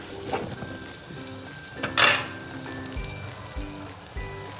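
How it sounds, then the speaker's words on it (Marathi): Sliced onions frying in oil in a clay kadhai for dhaba-style chicken, a soft continuous sizzle with occasional stirring scrapes and one brief louder hiss, heard close up with no talking. "कांदे त्याच्यामध्ये आपण टाकणार आहोत आणि मस्त असं गोल्डन ब्राऊन करून घेणार आहोत"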